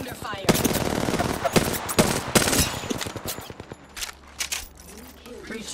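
Rapid automatic gunfire in the video game Apex Legends rattles out in several close bursts, with a voice talking over the shooting.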